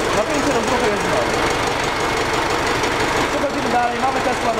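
A tractor engine runs steadily at idle with a rough, knocking rhythm during an electrical test, close by, while a voice talks over it.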